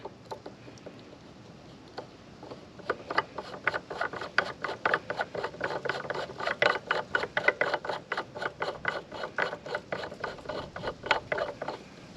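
A ratcheting Allen wrench clicks steadily as a lock screw on a Rebel 500 motorcycle mount is tightened, a long run of close, rapid, fairly even ticks.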